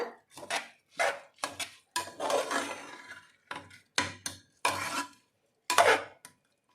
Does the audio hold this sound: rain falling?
no